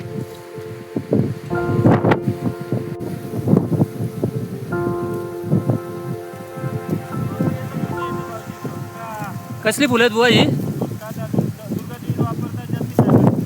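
Wind gusts and rustles through foliage on the Peb fort hillside, a steady blustery roar with buffeting on the mic, while people talk over it throughout.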